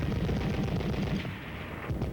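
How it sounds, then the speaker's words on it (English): Rapid, sustained bursts from a .30 caliber machine gun on an Army training range, a steady stuttering rattle of shots with a dense, rumbling low end. "back to the range to learn to fire additional weapons like the .30 caliber machine"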